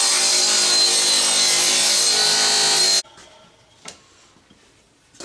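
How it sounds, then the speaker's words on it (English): Table saw ripping a groove along a 1x4 wood board, a loud steady high whine for about three seconds that cuts off abruptly, followed by a few faint knocks and handling sounds. "we went once with the table saw"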